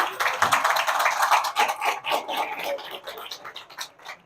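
Scattered audience clapping at an education ministry and UNESCO workshop on sector reviews, a moderate patter of hands that thins out toward the end.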